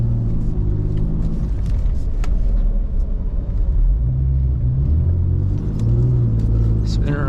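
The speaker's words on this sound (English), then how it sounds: "See if she can drift a little bit." A BMW E39 drifting through a snowy blizzard: a loud, steady engine rumble with rising revs fills the cabin continuously, with occasional voices over it.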